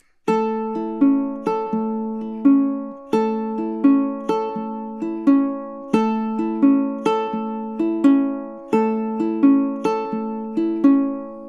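A ukulele is Travis-picked in a steady, repeating pattern, the thumb alternating between the 4th and 3rd strings, bright plucked notes ringing clearly with no voices.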